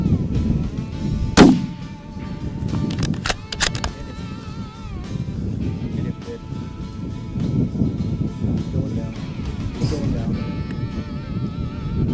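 A single loud rifle shot cracks out near the start, fired at a big buck during a deer hunt, and is followed by open outdoor ambience with low voices.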